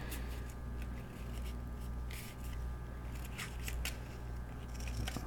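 Scissors snip through paper to trim a mini sketchbook, a series of quiet, close crisp cuts and rustles coming at an irregular pace, some sharp snips standing out against faint background hum.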